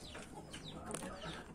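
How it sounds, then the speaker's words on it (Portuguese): A moulting rooster clucks in short, close bursts in a farmyard, with faint background noise and no other sounds breaking through. "Mas é um galo bem bonito aí, depois que ele faz a muda dele."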